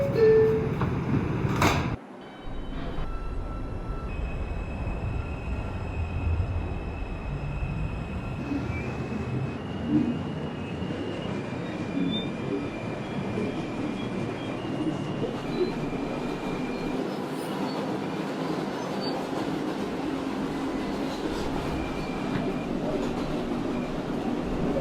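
A Woodlawn-bound 4 subway train rolls along with a continuous loud rumble and wheel squeal, a sharp clunk near the start and brief faint tones over the steady roar.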